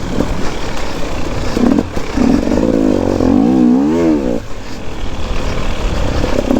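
An enduro motorcycle churns through thick mud in third gear, its engine droning loudly and close with wavering revs and a brief throttle surge in the middle, wind and rider noise mixed in.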